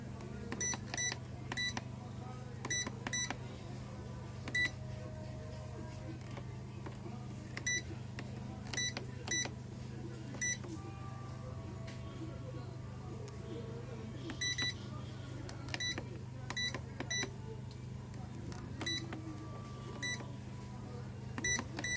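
Sharp electronic beeps from the keypad of a Maroti 40 kg digital scale as a password is entered, coming in short irregular clusters of quick presses over a steady low hum, close and clear.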